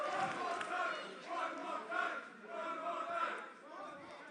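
Crowd at a wood-chopping competition bout between KJ Orso and Ricky Sosa, shouting and chanting in rhythmic surges, several rising calls spread over a few seconds, moderately loud with a rough group-voice texture.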